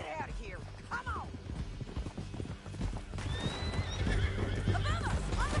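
Hooves clatter rapidly as horses gallop in the video game Red Dead Redemption 2, and several shrill neighs ring out over the steady drumming, with voices talking in the background.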